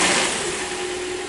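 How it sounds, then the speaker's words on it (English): A car engine idling steadily just after being started, with a constant mid-pitched hum that stays even and close for about a second and a half. "So now that the car is running,"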